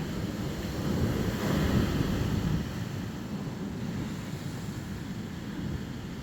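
Ocean waves wash and rumble continuously with a broad, windy hiss, swelling slightly early on before settling into a steady roar.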